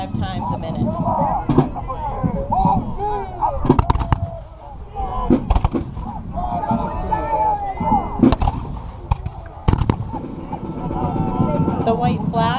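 Smoothbore muskets firing at a 1758 battle reenactment at Fort Ligonier, several sharp outdoor reports spaced irregularly, some loud and some farther off, under a crowd's continuous chatter and wind.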